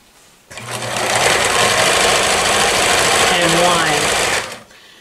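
A 1994 New Home Model 108 sewing machine runs in a steady, loud whirring burst of about four seconds, its needle moving up and down, then stops.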